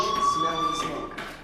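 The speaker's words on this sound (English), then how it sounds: "Hey, do you hear that fire alarm?" A fire alarm in the game Life is Strange rings with a steady high electronic tone. Faint background noise and a soft voice-like murmur sit beneath it.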